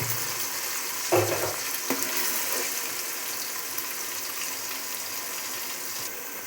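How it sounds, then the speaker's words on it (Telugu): Vegetable pulao with added water bubbles and simmers in a cooking pot, making a steady, soft hiss with a brief clatter or stir near the start. No voices are heard. "ఇప్పుడు బాగా ఉడుకుతుంది కదా"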